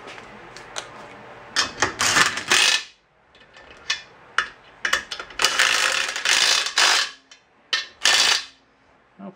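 Lug nuts are threaded and tightened onto a car wheel, giving repeated close ratcheting clicks and metallic clatter in irregular bursts with brief pauses.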